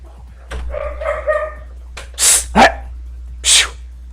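A dog barks indoors with several loud, sharp barks near the microphone, spaced apart, after someone speaks briefly.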